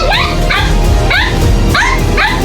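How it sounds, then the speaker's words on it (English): A puppy named Yudi barks loudly at a dog trainer indoors, five sharp high yapping barks in a quick steady rhythm, close and prominent over a low background hum. "Yudi started barking loudly at the dog trainer"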